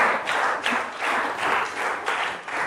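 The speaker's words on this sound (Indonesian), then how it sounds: "Tepuk tangan buat Arif" A class claps for a student who answered correctly, a short burst of rhythmic hand clapping in pulses, moderately loud in a room.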